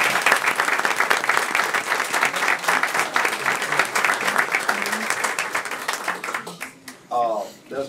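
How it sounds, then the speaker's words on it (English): A school board meeting audience applauds a group of sixth-grade students with steady, dense clapping that fades out near the end, where a voice starts to speak. "Let's give them a round of applause."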